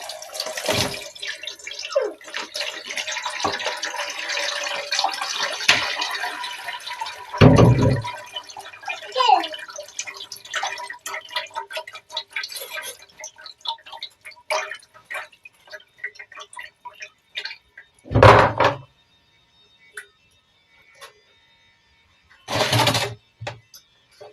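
Palm fruit juice for banga soup runs through a filter into a pot, a trickling, dripping flow that thins out, broken by a few louder clunks and splashes of handling, close by.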